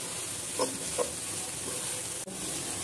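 Onion frying in a pan while chowmein is cooked, a steady soft sizzle and hiss with a couple of faint stirring taps.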